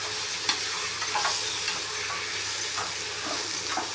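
Mango pachadi stirred in a hot pan, with a steady frying sizzle and repeated scraping strokes of the spoon. The sound is close and continuous, with no talking.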